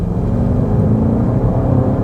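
A BMW X5M Competition super-SUV gives a deep, continuous engine rumble heard from inside the cabin while driving, steady and low throughout with no talk.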